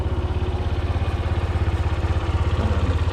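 A 1986 Suzuki RB50 GAG motorcycle engine running just after a cold start, its small engine idling close by with a steady fast pulsing beat and light mechanical clatter.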